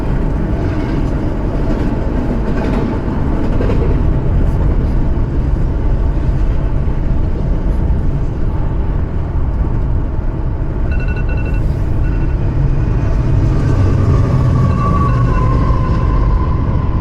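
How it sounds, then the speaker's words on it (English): A loud train rumbles past a car driving on side streets between Yorba Linda and Long Beach, California, a dense continuous roar lasting about seventeen seconds. "look at that train"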